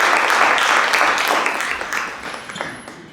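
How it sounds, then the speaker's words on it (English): A conference audience at a games industry event applauds in a loud, dense wash of clapping that slowly tapers off over three seconds. "A big applause, please."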